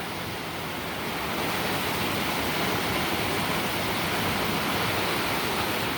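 Water wells up from a small spring in a steady, dense rushing gush that swells slightly after the first second and holds, with no voices.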